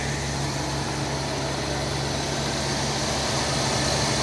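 A 1978 Lincoln Continental sedan engine idles with a steady, smooth low hum and an even broadband rumble that holds constant throughout, close by with no talking.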